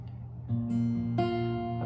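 Acoustic guitar fingerpicking in a thumb, pointer, thumb, middle pattern gives a few plucked notes that ring and layer into a sustained chord, close and moderately loud, with no talking.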